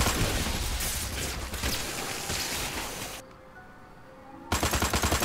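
Turret gunfire in the video game Destroy All Humans: a dense, continuous rattle of rapid shots over roaring background noise that briefly thins out before resuming at full loudness.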